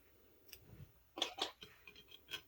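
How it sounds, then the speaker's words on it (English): Scissors cutting yarn, a few short quiet snips in quick succession against near silence. "So I will cut the yarn"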